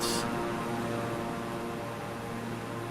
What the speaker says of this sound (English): You can still hear the plane, but it's not drowning me out.